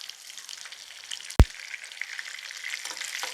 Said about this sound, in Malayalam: എല്ലാം ഇങ്ങനെ വറുത്തങ്ങ് എടുക്കാവേ.